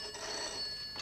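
A farmhouse telephone rings with a steady bell-like tone, fairly faint and somewhat muffled, lasting about a second.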